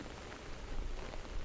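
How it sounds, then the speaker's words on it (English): Raindrops patter steadily on a surface in a soft, continuous rain, a gentle nature soundscape with no voices. "Tap, tap, tap. Drip, drop. Raindrops clap their tiny hands."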